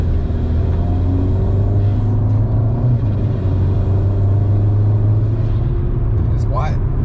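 A VW Golf R with a 4-inch downpipe cruises in comfort mode, shifting automatically. A steady, loud, low engine rumble with road noise, heard from the cabin.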